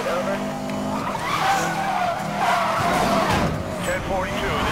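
Car in the Need For Speed Most Wanted (2012) racing game slides loose around a corner, its tires squealing and skidding over a loud, steady engine roar, with someone talking over it.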